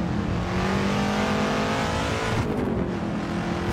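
A race car in the Assetto Corsa video game revs hard at high rpm, a loud continuous engine drone with the pitch shifting about two thirds of the way through and no talk.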